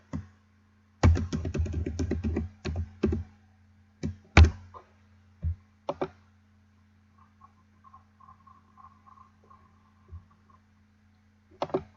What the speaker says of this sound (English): you're going to type in their password that was given to you by their teacher